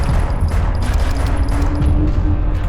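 Rapid, dense gunfire from a first-person shooter video game rattles on without a break, loud and close, with a booming low end throughout.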